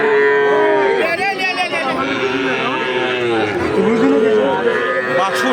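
A young calf moos close by at a cattle market in Ambari, Dinajpur, its drawn-out calls following one another almost continuously with no pauses.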